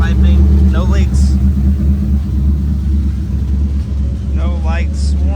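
A twin-turbo Mustang engine idles with a loud, steady low rumble that continues without a break while someone talks over it.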